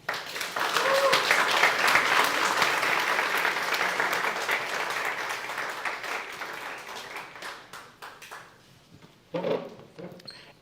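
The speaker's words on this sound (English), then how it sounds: "Let's clap for them." A crowd applauds at a podcast and discussion event on protest, strong sustained clapping that gradually thins and fades, with a few scattered claps and a brief burst near the end.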